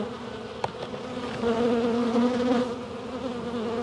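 Honey bees buzzing during a hive inspection, a steady close drone that swells louder midway, with a brief tap near the start and no talking.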